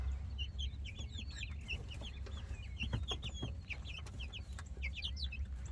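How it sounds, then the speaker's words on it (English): Chickens cluck in a backyard coop holding ten birds, their overlapping calls steady and fairly close over a low, constant background hum. "Chickens are cool."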